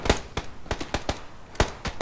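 Gunfire in the battle royale game PUBG, a series of about nine sharp, loud cracks in uneven bursts, close and punchy with brief gaps between shots.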